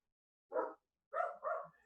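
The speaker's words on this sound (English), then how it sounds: "my dogs are going crazy right now, barking at, I think, the dog next door" Pet dogs barking indoors at a neighbour's dog, three sharp barks: one, then after a pause a quick double bark, close and fairly loud with no talk over them.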